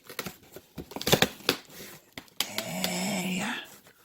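Scissors snip and crinkle through the packaging of an Amazon box holding a Gotham Steel cookware set, several sharp close cuts and crumpling sounds, then a longer rustling tear, with brief vocal noises in between.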